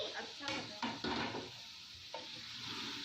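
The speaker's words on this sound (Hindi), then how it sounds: "यहाँ पे हमारा गोश्त अच्छी तरह से भून रहा है।" Mutton frying with masala in a pot, a steady sizzle broken by a few stirring scrapes and knocks against the pot, close and fairly loud.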